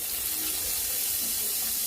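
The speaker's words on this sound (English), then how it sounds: "Drain this water out one more time." Water pours and splashes steadily as it is drained out of a pan holding chicken and hot oil, a continuous close running-water sound with no talk.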